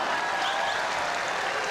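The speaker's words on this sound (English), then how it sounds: "And the crowd very warm in their appreciation for Zhu Jin" Warm applause from the crowd at a men's World Cup table tennis match, steady broadband clapping that fills the hall without pause, with no voices over it.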